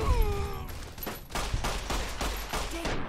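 Rapid bursts of gunfire in the Fallout: New Vegas video game, a dense fusillade of overlapping shots and automatic fire that fills the scene loudly and continuously.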